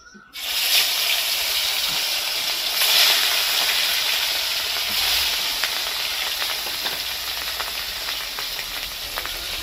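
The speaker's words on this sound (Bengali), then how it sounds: "মাছটা দেখো পুরো লাল করে ভেজে নিচ্ছে" Rohu fish pieces frying in hot oil for fish kachori, a loud, steady sizzle and hiss that begins abruptly and continues with small crackles throughout.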